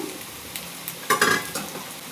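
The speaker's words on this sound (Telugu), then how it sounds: "ఇప్పుడు ఇందులోకి చికెన్ వేసేసుకుంటున్నాను" Chicken pieces fried like pakoda are tossed into a sizzling pan and stirred, a few soft scrapes followed by a brief burst of sizzling and clinking.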